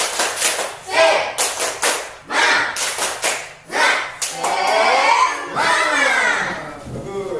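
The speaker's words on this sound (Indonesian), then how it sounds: "marilah kita bersama-sama tepuk semangat" A classroom of children does a rhythmic clapping chant, sharp group claps landing in patterned bursts between chanted voices, close and lively, then sliding into continuous sung call-outs.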